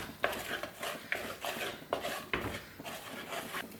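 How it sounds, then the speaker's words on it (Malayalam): A spoon is worked through Kerala-style fish curry masala frying in a pan, giving steady, evenly spaced scraping strokes about once a second over a soft sizzle. "ഇനി നമുക്കിത് നല്ലപോലെ ഒന്ന് ഇളക്കി കൊടുക്കുക"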